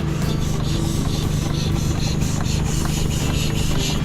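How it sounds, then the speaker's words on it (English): A miniature engine runs on compressed air at a gas engine show, giving a steady close hum with a continuous hissing, rasping rush and a faint rapid chugging pulse. "I'm operating them on air because it's easier to run them on air than it is on steam."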